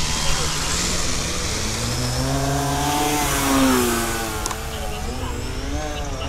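Electric motor and propeller of an E-flite Turbo Timber X RC plane running up close, a loud steady whine that climbs in pitch then eases off, with rushing airflow.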